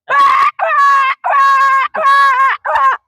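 A man vocally imitates puppies crying from the cold, giving five loud, drawn-out whimpering wails in a row, each a high, tonal cry with short gaps between.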